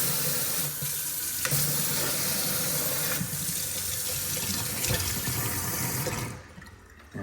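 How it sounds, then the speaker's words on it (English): A kitchen faucet runs into a large single-basin farm style sink, a steady hissing splash that carries for several seconds and then cuts off near the end, with no voices. "a very large updated single basin, kind of a farm style sink with a updated faucet"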